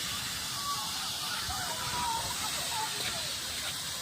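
Gas hisses and burns in a house fire, a steady broadband roar with crackling and sloshing underneath, at moderate distance, while people talk and shout over it.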